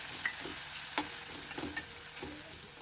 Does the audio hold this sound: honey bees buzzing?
no